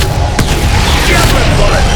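A javelin bullet attack in the Absolum video game lands as a loud, dense booming impact. Heavy crashing continues throughout, mixed with a shouted voice.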